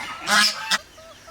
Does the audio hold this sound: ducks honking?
yes